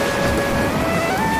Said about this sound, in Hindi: इतनी बारिश में भला कोई काम पर जाता है क्या?